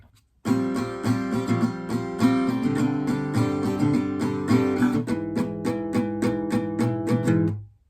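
Acoustic guitar strumming the opening chord line of a song, a steady pattern of down strums with a quick up strum, played close and clear for about seven seconds with no talking.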